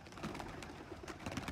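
Pigeons coo close by, soft repeated calls over a busy background of fluttering and shuffling while grain is scattered for them at a rooftop setup.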